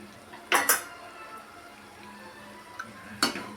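A ladle clanks against a cooking pan a few times while stirring and poking mushroom masala, two quick knocks close together, then a pause and another clatter, with faint background hiss.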